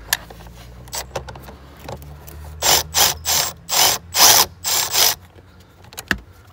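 A ratchet wrench loosens an 8 mm fastener on a 2015 Dodge Durango Limited during radiator work: a close, loud series of about seven quick ratcheting bursts, with a few light clicks before and a sharp tap at the end.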